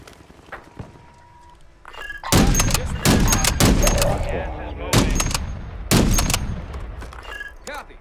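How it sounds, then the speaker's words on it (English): Loud bursts of video game gunfire crack in several heavy volleys, close and punchy, with quieter single shots and thuds between them and brief game voice callouts. "Getting shot at from guys over here."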